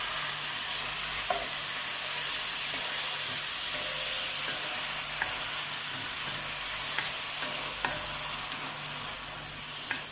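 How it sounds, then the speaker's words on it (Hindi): Prepared sauce goes into sizzling hakka noodles in a pan, a steady loud frying hiss with occasional faint utensil taps and stirring, continuous throughout. "अब डालेंगे हम ये सॉस जो बना के रखे थे"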